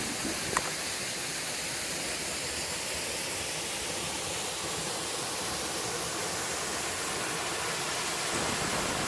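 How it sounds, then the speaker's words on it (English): Waterfall at Parlatuvier pouring into its pool, a dense, steady broadband roar that stays constant throughout, close and loud, with no voices. "one could drive to Parlatuvier and spend the day just around the waterfall pool"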